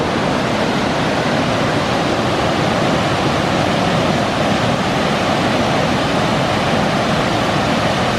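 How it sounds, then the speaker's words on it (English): A steady, loud roar of rushing water pours continuously from a waterfall at Burgess Falls State Park, with no talking and no change in intensity. "I hear the water."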